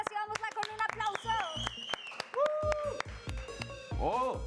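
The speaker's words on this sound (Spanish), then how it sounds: "Así que recibámosla con un aplauso" Audience clapping rings out in a television studio as footballer Vanessa Castillo is welcomed onto an interview show, scattered claps heard close alongside overlapping voices and tones, lasting a few seconds.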